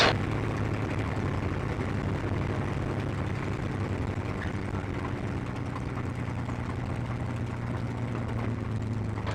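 Small propeller airplane taxiing across a runway, a steady low engine drone and propeller hum holding evenly throughout, close and continuous with no talk.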